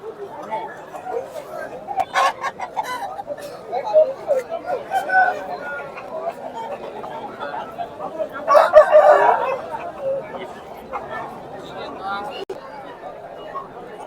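A rooster crows once partway through, amid the chatter of people talking nearby at a poultry market in Gokavaram.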